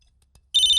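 After a brief silence, an electronic phone ringtone starts abruptly, bright and steady, loud and close.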